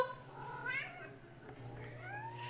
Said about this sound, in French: T'arrêtes pas de miauler?